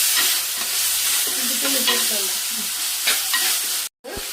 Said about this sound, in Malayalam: ആവശ്യത്തിന് മഞ്ഞൾപ്പൊടി അതും കൂടെ ഇട്ട ശേഷം നമുക്കൊന്ന് വഴറ്റാം